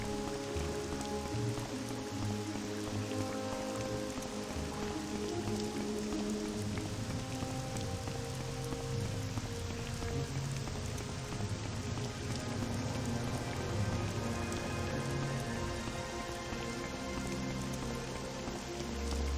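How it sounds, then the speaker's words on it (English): Steady rain in The Elder Scrolls III: Morrowind pattering on surfaces, dense and continuous throughout, with scattered drips and splashes and a soft low rumble underneath. "I like the sound of the rain in this game."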